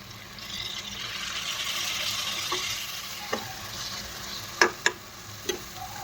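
Minced mutton kheema sizzles and fries in masala, a steady close hiss broken by a few sharp clinks and scrapes as a spoon stirs the pan.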